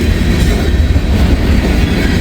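A loud, close freight train rumbling past on rain-wet rails in Kentucky, steady heavy roar with rhythmic wheel clatter throughout.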